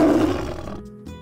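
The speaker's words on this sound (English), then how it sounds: "Tiger." A tiger in a zoo animals learning app gives one loud, close roar that swells and then fades, ending with a short low grunt.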